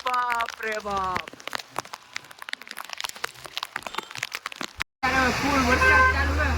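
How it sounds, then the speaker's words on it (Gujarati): Heavy monsoon rain at Bhavnath in Junagadh patters and crackles on surfaces beneath someone talking. The sound cuts out briefly, then returns as a louder, denser wash with voices over it. "અત્યારે ફૂલ વરસાદ ચાલુ છે."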